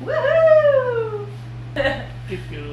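A dog lets out a long, rising and falling whimpering whine, close by, followed by a couple of short yips, with a steady hum underneath.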